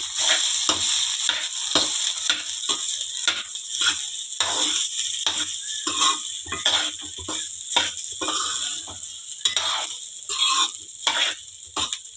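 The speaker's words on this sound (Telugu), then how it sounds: "ఇప్పుడు దీన్ని తాలింపులో వేసుకుందాం" Close sizzling of cooked rice frying in hot garlic tempering oil, with repeated stirring scrapes in an irregular rhythm; no talking.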